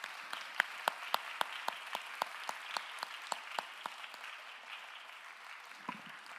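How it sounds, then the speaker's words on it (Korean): Sustained applause from a church congregation welcoming new members, with clear individual claps standing out in a steady rhythm over a softer crowd wash, fading toward the end. "박수로 우리 환영하도록 하겠습니다"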